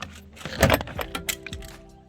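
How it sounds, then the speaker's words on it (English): Plastic door trim pried off a Nissan Patrol with a wiggle, giving a cluster of close, sharp clicks, creaks and clip snaps over about two seconds. "And then the door trim should come off with a bit of a wiggle."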